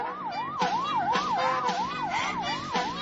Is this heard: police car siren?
yes